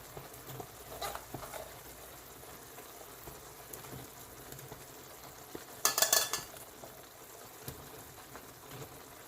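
Cauliflower being added to hot oil in a pan and stirred, a faint continuous sizzle with occasional soft scrapes and one brighter clatter of ingredients or utensil partway through.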